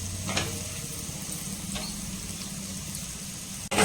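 Eggplant roasts in oil over a high flame for a spicy oil-eggplant gravy, giving a steady, close sizzle with faint stirring and a sharp clatter at the very end.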